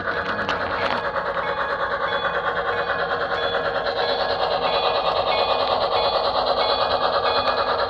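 A special Erie camelback steam model train runs on a large model railroad layout, giving a steady, continuous rolling and clattering hum with a faint whine, close and fairly loud throughout.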